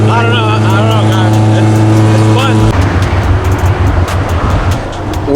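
Honda Civic with a very loud aftermarket exhaust idling, its lumpy cam chop throbbing steadily and close; a few seconds in, a voice starts talking over the rough idle.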